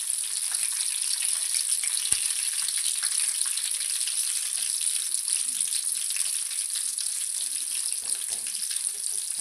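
Chillies and onions fry in a pan with a steady, bright, crackling sizzle that stays close and constant, with no talk over it.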